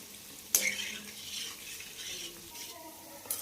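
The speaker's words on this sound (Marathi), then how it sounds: "आता गॅसची फ्लेम मध्यम आचेवर ठेवून आपल्याला हे तळून घ्यायचे." Sweet potato gulab jamun fry in oil over a medium flame while a spoon stirs them, giving a soft steady sizzle close by, with a sharp clink of the spoon against the pan near the start and again at the end.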